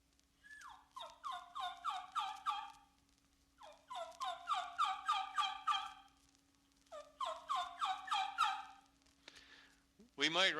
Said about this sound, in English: And here's the same notes on the diaphragm collar.